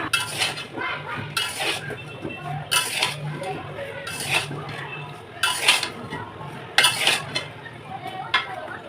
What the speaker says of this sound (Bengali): লবণটাকে ভালোভাবে আমের সাথে মিশিয়ে নেব